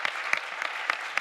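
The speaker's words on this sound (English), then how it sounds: "I think a huge round of applause can go to start with to" A debate audience claps in a light, scattered patter, with a few sharper individual claps standing out over a short moment.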